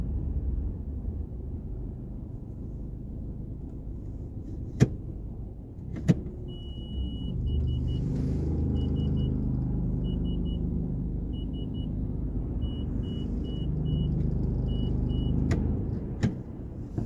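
A car drives slowly while hunting for a parking spot, its low engine rumble steady and close, with a few sharp clicks and a repeating electronic beep pattern over it.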